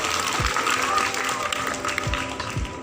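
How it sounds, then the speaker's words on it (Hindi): Spectators at a magic show clap together in a loud, continuous patter, with a few low thumps from the stage area breaking through the clapping. "ताली ताली ताली ताली"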